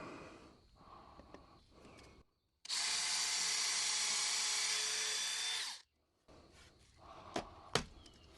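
A power drill pre-drills into a dense white oak board, whirring loudly and steadily for about three seconds between quieter handling noises and a few sharp knocks.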